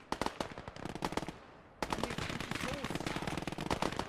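Dense bursts of rifle and machine-gun fire in the WWII strategy game Gates of Hell: Ostfront, rapid cracks crowding one another, dropping off for a moment and then resuming loudly.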